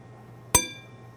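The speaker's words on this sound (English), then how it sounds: "that was the sound of a martini glass hitting the Captain" A martini glass strikes a Captain Morgan rum bottle once, giving a sharp, bright glass clink that rings briefly and then fades against a quiet low hum.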